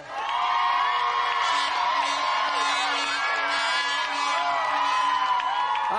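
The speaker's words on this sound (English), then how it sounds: "So let's have another round of applause for our champion challenger, Gavin Hansford." A large television game show studio audience whoops and cheers steadily for several seconds, loud and sustained, with shouts rising above the general roar.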